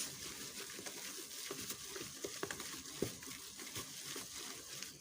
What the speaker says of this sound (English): So you keep mixing until it completely turns into a paste.